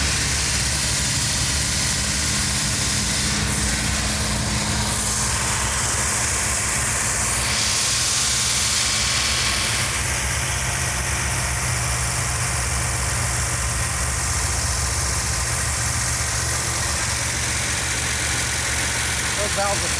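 A 1970 Dodge Challenger 440 Six Pack V8 idles loudly and steadily close by, its rough, loping tone shifting slightly as the ignition timing is adjusted, with a constant hissy wash throughout.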